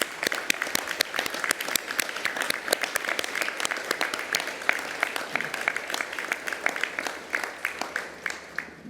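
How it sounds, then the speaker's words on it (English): Audience at a university graduation ceremony in Ourimbah, Australia, applauding the graduates: steady, dense clapping from a large hall crowd with sharp individual claps standing out, continuing throughout with no speech. "Please join me in applauding the wonderful achievements of our graduates."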